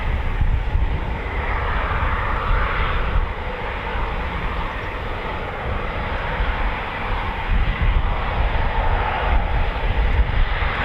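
A Eurofighter Typhoon FGR4 jet flies at night over RAF Coningsby, its loud engine roar rumbling continuously with slow swells over about eleven seconds.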